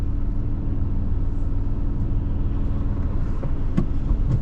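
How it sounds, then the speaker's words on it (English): A Lotus Emira sports car's engine drones low and steady from inside the cabin, a constant loud rumble with no talk. "you can still hear a really nice sound of the actual engine rather than the exhaust in the car"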